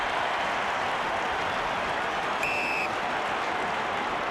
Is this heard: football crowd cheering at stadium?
yes